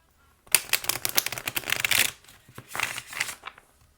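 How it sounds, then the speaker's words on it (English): Tarot cards are shuffled by hand in a quick riffling burst, close and crisp, pausing briefly before a second shorter flurry. "One more shuffle."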